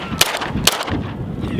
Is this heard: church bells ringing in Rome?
no